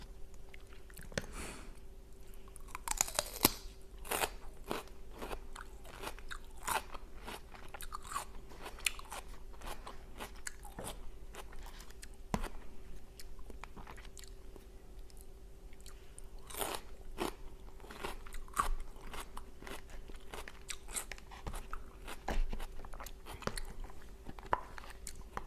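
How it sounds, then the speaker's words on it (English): Crunchy raw vegetables and celery with a dill dip are bitten and chewed close up: a long series of sharp, irregular crunches and wet chewing with no talking. "I'm trying to decide in my head right now if I want to talk or just make this mostly eating sounds."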